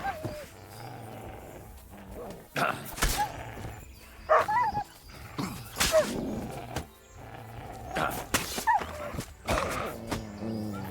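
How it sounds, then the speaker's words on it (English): Dogs bark and yip in the medieval game Kingdom Come: Deliverance II, several short barks and whines scattered over ambient game sound, near and fairly loud. "Leave my goddamn dog alone"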